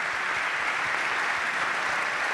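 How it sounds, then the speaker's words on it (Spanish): A short, even burst of audience applause follows a panel discussion on women's football. The clapping forms a continuous wash, fairly near and moderately loud, with no talking over it. "Un aplauso para Salomé Di Iorio"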